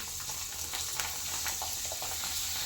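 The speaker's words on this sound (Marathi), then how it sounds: "दुसरं पण पापड मी तळून दाखवते" A rice papad frying in hot oil, a dense close crackling sizzle with small pops and bubbling throughout, steady and without talk.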